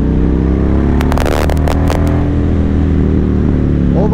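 A 2005 Yamaha MT-01 motorcycle cruising in fifth gear at low revs, its big engine giving a steady, loud, deep throb, with brief rustling clatter from wind or gear in the middle.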